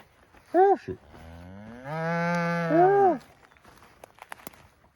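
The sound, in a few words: cattle mooing, steers and cows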